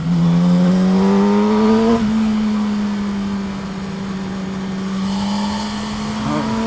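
A car, referred to as a 600, drives along a road, its engine whining steadily and shifting pitch as it revs and eases off, heard loud and close from onboard with no talking.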